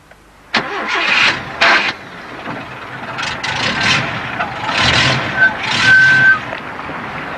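Subaru four-wheel-drive engine cranked after stalling in a creek: a sharp click, then crank bursts and an engine catching and revving unevenly, fairly loud and close, with a brief electronic beep tone.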